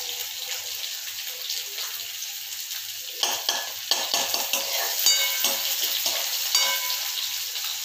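Chopped onion hitting hot oil in a pan for a cauliflower curry, a steady close sizzle with intermittent stirring scrapes and clinks, no voices.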